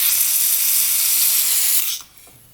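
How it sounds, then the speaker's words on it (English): Compressed air or spray blasting through the passages of old 1968 British motorcycle parts, a loud continuous hiss lasting about two seconds before cutting off abruptly. "we're gonna blow through everything, make sure everything's clear, spray everything out"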